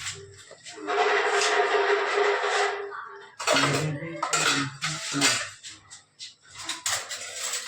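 A metal spoon stirs red chili powder into chicken in a pan, making loud clattering scrapes against the metal: first one long steady scrape, then a run of choppy, irregular strokes.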